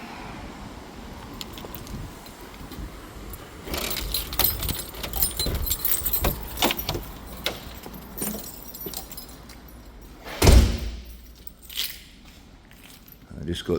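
Keys jangle near a vehicle at a motorcycle festival, heard as clinking bursts in the middle of the stretch among rustling handling noises and a loud close knock or thump, with some speech in the mix.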